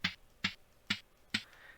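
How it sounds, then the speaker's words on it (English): Snare drum hits from a Minecraft note block on sand, four crisp, evenly spaced taps, about two per second, heard alone. "And then you have your sand block, which is snare drum."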